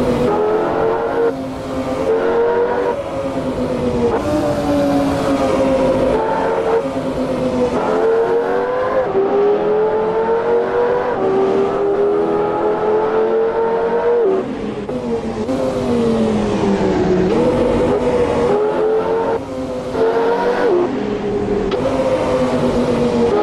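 A Lamborghini Gallardo supercar in Assetto Corsa revs hard through repeated gear changes, the engine note climbing and dropping in steady waves, loud and close with occasional tire squeal.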